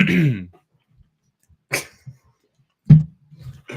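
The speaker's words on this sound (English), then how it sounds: "get a couple coughs in so I can practice" A few separate sharp coughs go into a podcast microphone up close, with short silences between the bursts.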